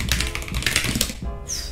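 Typing on an Epomaker TH80 mechanical keyboard, a close, dense run of rapid key clacks that continues steadily without pause.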